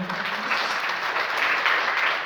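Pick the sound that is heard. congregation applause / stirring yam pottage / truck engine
congregation applause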